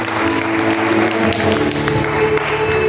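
Church congregation applauding after a prayer, a steady dense wash of clapping that fills the whole moment at a fairly loud level, with no clear speech over it.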